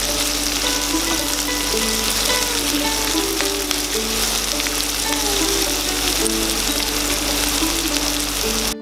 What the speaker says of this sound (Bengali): এরপর হালকা বাদামি করে পেঁয়াজ কুচিগুলোকে ভাজুন।